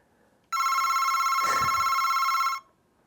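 A telephone ringing once, a bright electronic ring that starts abruptly, holds steady for about two seconds and then cuts off, with near-silence before and after.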